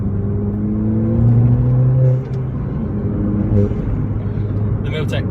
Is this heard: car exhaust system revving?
yes